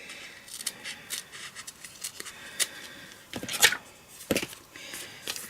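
Scissors snip through masking material just inside a drawn line, producing a series of short, crisp cuts at irregular intervals, louder toward the end, with no talking.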